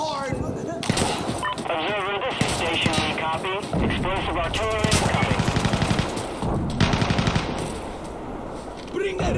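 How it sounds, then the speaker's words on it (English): Automatic machine gun fire in the video game Insurgency Sandstorm, bursts of rapid shots repeating under game noise and a voice talking, with a steady fast rattle around the middle. "That's a machine gun."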